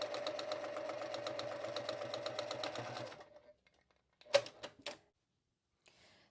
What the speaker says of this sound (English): zipper foot on here so I can get nice and tight to that line, and then just stitch